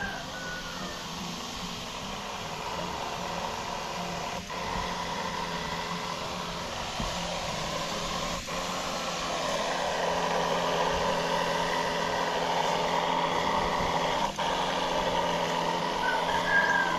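A farm sprayer's small engine runs in a steady mechanical drone, slightly rising in loudness, with a few faint clicks.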